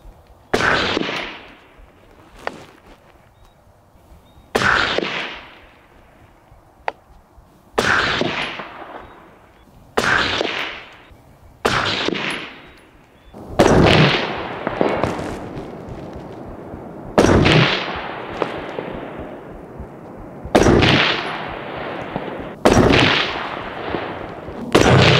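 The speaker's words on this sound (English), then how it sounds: "So let's do some shooting today and see how the ground pod performs." Rifle shots fired from an MDT GRND Pod bipod, about nine loud, sharp cracks spaced a couple of seconds apart, each trailing into a long outdoor echo.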